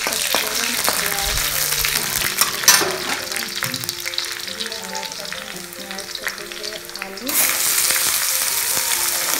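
Potatoes and onion fry in mustard oil in a kadai, a steady close sizzle with stirring, while a voice talks over parts of it.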